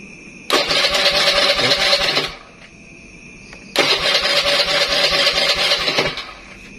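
A carbureted Beat motorbike engine cranks and catches twice, each burst roaring for about two seconds before cutting out, recorded up close.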